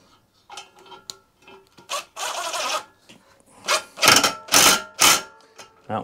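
Small socket wrench snugging chipper blade bolts, with rubbing and rasping metal turns that grow into several loud, close bursts toward the end.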